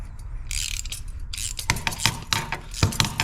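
A flaring tool is tightened on a turbo backpressure sensor line, giving close, crisp metallic ratcheting clicks and grinding in quick uneven bursts.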